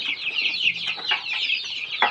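A rooster clucking up close, a run of rapid, throaty clucks and short calls repeating steadily with no voices.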